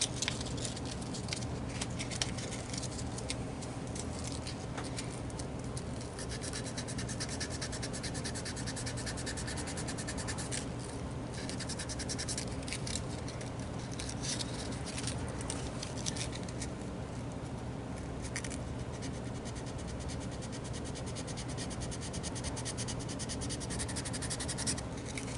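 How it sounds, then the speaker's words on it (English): Fine 400 grit sandpaper rubs over a GP7 model locomotive shell in a faint, continuous dry scratching that goes on steadily without speech. "So a little 400 grit sandpaper."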